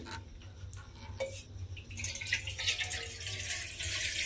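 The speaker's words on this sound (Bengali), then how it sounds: "এইবারে আমি এর মধ্যে দেব জল।" Water pours steadily into a kadai set on a lit gas stove, a continuous splashing stream that builds in brightness and volume over several seconds, close and without talk.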